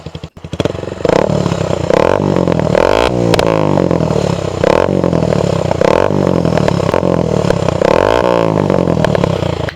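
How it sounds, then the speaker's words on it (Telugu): A modified Bajaj Avenger motorcycle with a loud replica aftermarket exhaust starts up and idles with a deep, throbbing burble broken by repeated sharp throttle blips, close and loud throughout. "సో దీని ఎగ్జాస్ట్ నోట్ అయితే"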